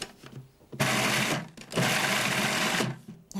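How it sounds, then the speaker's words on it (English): A kitchen blender whirs through a prawn and chive mixture in two loud bursts of about one second each, separated by a brief pause. "Put that on, just blend it."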